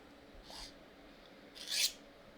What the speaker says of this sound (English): It's scraping the metal, and you're actually taking off material because it's a file.